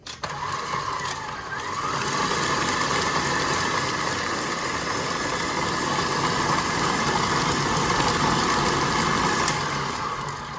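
A stand mixer whisks organic, naturally coloured pink buttercream, giving a steady, loud motorised whir that starts up and holds constant close by with no talking.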